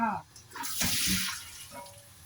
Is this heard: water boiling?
yes